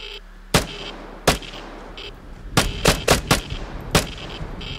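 Gunfire in the video game Vigor comes as sharp single shots and then a quick burst of several, loud and punchy with short gaps between them, no talk over it.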